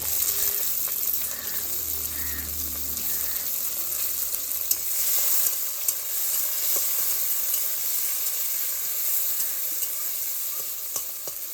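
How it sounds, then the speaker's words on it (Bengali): Chopped onion and tomato frying in oil with turmeric and salt for a village-style raw hilsa curry, a continuous hissing sizzle with a few soft stirring scrapes, steady and moderately close. "এরপর বন্ধুরা এই পেঁয়াজ আর টমেটোকে ভালো করে ভেজে নেব।"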